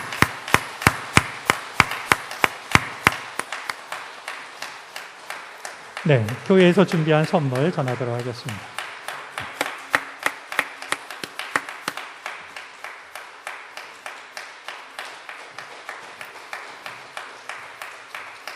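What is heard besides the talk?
congregation applauding the new pastor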